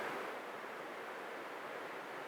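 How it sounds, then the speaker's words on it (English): A steady, soft rushing of falling water hisses evenly throughout, distant and faint, with no voices. "I hear the waterfall."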